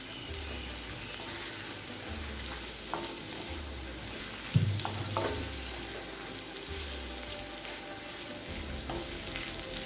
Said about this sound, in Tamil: ஆம்லேட் சேர்த்துட்டு மெதுவாக கலரிக்கலாங்க.